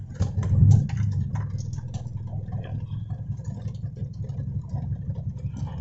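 A Toyota 4A-FE engine in an AE92 with a carburetor idles low and steady right after its first start, a close mechanical rumble with a slightly louder surge at the beginning and no talking.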